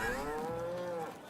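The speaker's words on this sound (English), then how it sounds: "I don't remember having this many cows." Cattle on a farm in a farming simulation video game let out a long, drawn-out moo, fairly close and clear over soft background ambience, with no talking.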